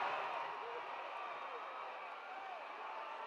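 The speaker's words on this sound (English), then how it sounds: "Listen to this crowd." A large crowd at a 1969 professional wrestling match between Bull Curry and Johnny Valentine roars steadily, a dense, distant wash of cheering voices that never lets up.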